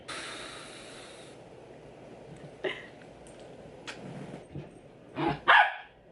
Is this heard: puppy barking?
yes